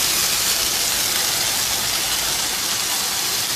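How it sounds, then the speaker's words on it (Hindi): Chicken and chana dal frying in a pan make a dense, even sizzling hiss that stays loud and close for the whole stretch, with no pauses or voices. "चिकन को थोड़ा सा भून लेंगे।"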